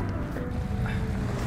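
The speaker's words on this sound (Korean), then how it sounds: "파도 소리가 들리잖아요" Waves washing against a breakwater at Iwon on the sea coast, a steady low rolling wash of water with wind noise, continuous and fairly near, with no voices.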